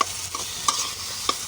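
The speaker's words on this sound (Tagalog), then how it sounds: "Gisa natin yan guys." Onion, tomato and garlic sautéing in a pan for sinigang with miso make a steady close sizzle, with a few light spatula knocks against the pan.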